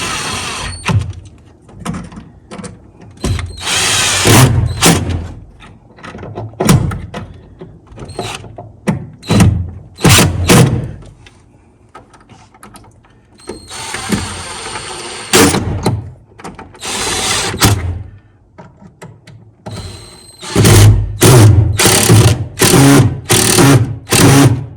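Power drill driving Phillips head screws while building a wooden rabbit hutch, with repeated short whirring bursts and pauses between them, close and fairly loud, ending in a rapid run of several quick bursts.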